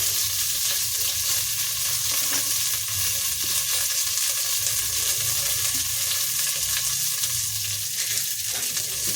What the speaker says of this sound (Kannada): ಈಗ ಕಟ್ ಮಾಡ್ಕೊಂಡಿರೋ ಈರುಳ್ಳಿ, ಕರಿಬೇವನ್ನ ಸೇರಿಸ್ಕೊಂಡು ಚೆನ್ನಾಗಿ ಫ್ರೈ ಮಾಡ್ಕೊಳ್ಳಿ.